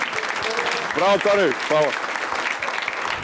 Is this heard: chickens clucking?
no